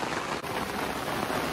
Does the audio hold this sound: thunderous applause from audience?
no